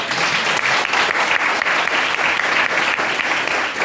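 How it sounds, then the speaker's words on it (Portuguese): A congregation at a missionary gathering breaks into a round of applause for a woman, dense and fairly loud clapping sustained without pause for the whole stretch. "Dá uns aplausos para ela, gente."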